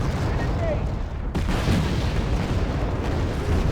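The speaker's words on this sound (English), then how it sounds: "Another couple of lucky artillery hits." Artillery rounds strike in the Red Dragon strategy game, dense rumbling booms and crackling blasts layered over continuous battle noise, with a sharp impact near the middle and a voice talking over it.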